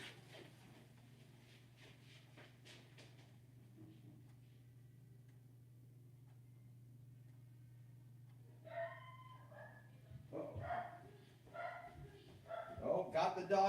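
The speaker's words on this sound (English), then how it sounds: "Oh, got the dog barking." A dog barks faintly in a quiet room, a few short bursts arriving near the end over a steady low hum.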